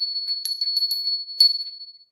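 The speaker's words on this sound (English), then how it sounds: "Hear the bell? And again, it's just a bell." A small, hefty bell on a bumblebee item jingles in several quick bright shakes, then one louder jingle, ringing close and clear with no talk.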